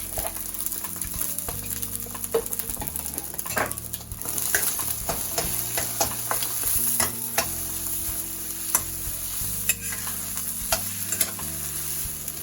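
Rice is stir-fried in a pan with seasoned eggs and a splash of soy sauce, giving a steady close sizzle with repeated scraping and clinking of a utensil against the pan, without any talk.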